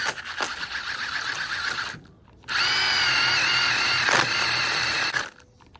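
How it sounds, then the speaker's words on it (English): A cordless power drill whirs in two steady bursts with a short pause between, close and loud, winding down at the end. "Change the settings on the drill."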